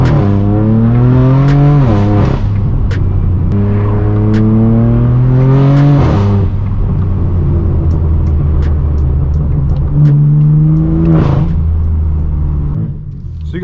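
Straight-piped BMW M4 F82 exhaust heard from inside while driving, loud booming revs climbing through gears in repeated pulls, with brief drops between shifts and a steady deep drone throughout.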